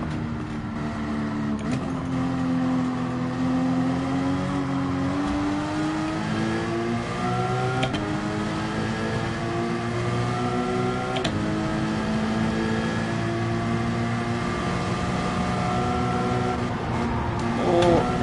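Race car engines in Gran Turismo 7, a video game, including a Dodge Viper, drone and rev steadily throughout an open-lobby race, pitch rising and dropping through gear changes, with a few sharp shifts.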